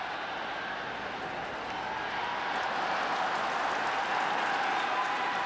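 A stadium crowd at Tokyo Dome roars steadily during the wave at a Yankees versus Yomiuri Giants exhibition baseball game, a dense, even wash of cheering that swells slightly toward the end.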